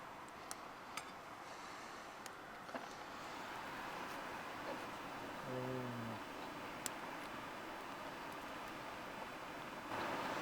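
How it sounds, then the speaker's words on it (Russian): A steady, broad rushing roar of river rapids in the Altai mountains, heard from a distance with an echoing wash. It carries a few faint clicks and a brief low tonal blip partway through. "но я полагаю, что это шум от переката"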